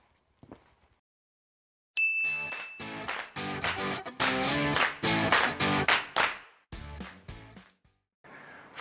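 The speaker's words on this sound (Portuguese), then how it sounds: "Roda essa vinheta." A short channel intro jingle for a biology lesson plays loud and clear, a rising tone followed by punchy rhythmic musical hits and a final sting, with no talking.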